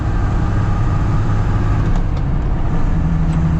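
Diesel Mercedes G-Wagon off-roader with an overland build driving along, its engine a steady low drone with constant road rumble and no talk over it.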